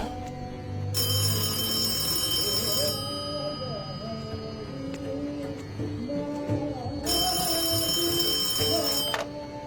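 A telephone rings in two long bright electronic bursts with a gap between them, heard over a soft background melody with voices, indoors and close.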